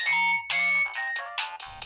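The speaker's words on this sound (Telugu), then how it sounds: "ఫోన్ చేస్తున్నట్టున్నాడు" A mobile phone ringtone for an incoming call, a bright electronic melody of repeated tonal phrases sounding clearly and alone at moderate volume.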